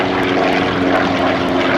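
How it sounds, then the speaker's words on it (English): A WWII Navy SB-2C Helldiver carrier plane flies at an airshow, its piston engine and propeller giving a loud, steady, close drone with a rhythmic pulsing throughout. "the SB-2C Helldiver, flown by the Navy during World War II, an aircraft carrier plane"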